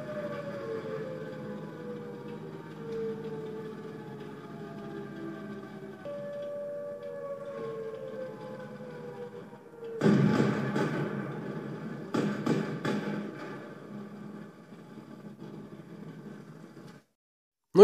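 World of Tanks game audio plays on a Beelink Pocket P1 pocket computer. Sustained, siren-like falling tones run under the action, broken by a cluster of sharp bursts and thuds midway. The sound is moderately quiet and then cuts off, with no talking.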